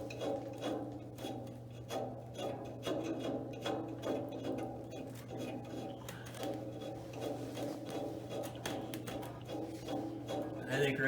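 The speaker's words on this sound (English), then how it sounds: "I'm just going to dress it with a round file, and it is just a chainsaw file." A round chainsaw file rasps back and forth against metal burrs, a quick, even run of short scraping strokes heard close up against a low steady hum.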